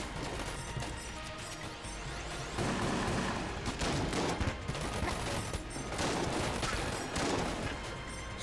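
Dense, continuous gunfire and bullet impacts fill Enter the Gungeon, a barrage of overlapping shots and crashing hits that swells louder midway and keeps going without pause.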